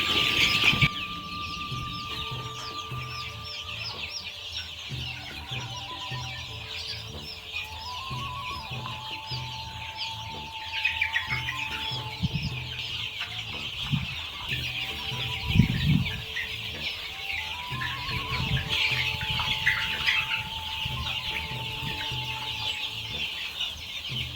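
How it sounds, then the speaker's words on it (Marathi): Pure desi gavran chicks peep and cluck in a dense, continuous chorus while being fed chopped fenugreek grass, with occasional louder calls from nearby and no talking. "प्युअर गावरान कोंबडीची पिल्लं आहेत"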